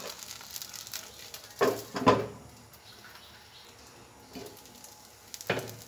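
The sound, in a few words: pitha (rice crepe) frying in oil in a pan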